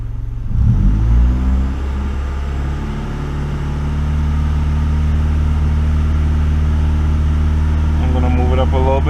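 A car engine with an RPM shift light mod, set to shift at 2,000 RPM, starts up with a low rumble, then holds a steady idle close by and rises in pitch as it revs near the end.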